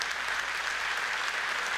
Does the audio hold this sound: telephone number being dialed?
no